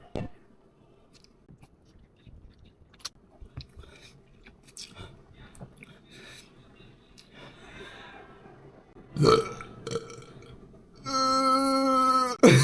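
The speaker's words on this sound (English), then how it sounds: "That was gonna be a bigger burp." A burp right after gulping a Monster energy drink: soft sipping and swallowing noises, then a short throaty belch, followed by a louder, sustained tonal burst near the end.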